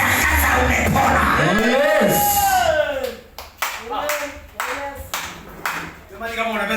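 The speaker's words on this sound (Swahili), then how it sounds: "kama unapenda Yesu ushangilie Bwana Yesu makofi" A church congregation claps hands loudly after a speaker's voice fades, with bursts of applause and cheering over several seconds.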